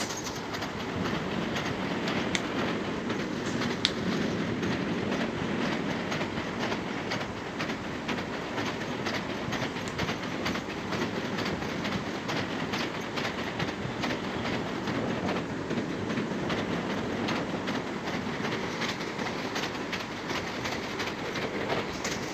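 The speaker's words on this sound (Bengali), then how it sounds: "দেখতে পাচ্ছেন আমরা একটা ব্রিজে উঠে যাচ্ছি এবং এটা রেল লাইনের সবচেয়ে বড় ব্রিজ ভৈরব ব্রিজ" Train crossing the long Bhairab railway bridge, heard from on board, with a steady loud rumble and continuous rhythmic clickety-clack of wheels on the rails throughout, no talking.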